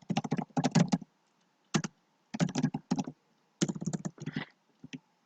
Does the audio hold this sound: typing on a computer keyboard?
yes